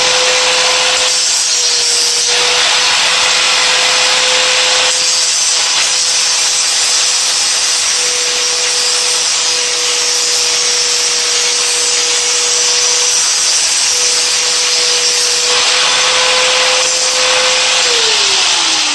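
An angle grinder cuts the plastic rear fairing of a 1996 Honda CBR900RR motorcycle, a loud, continuous close-up whine and rasp that holds steady for the whole stretch before its pitch drops as it spins down.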